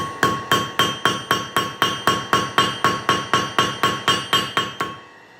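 A hammer struck about sixteen times in a fast, even rhythm against a metal leaf held by its stem, each blow a sharp close ringing clank, radiating cross-peen blows to texture the surface.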